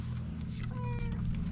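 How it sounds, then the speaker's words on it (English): Domestic cat giving a short, faint meow indoors over a low steady hum of household noise. "And there's the kitty."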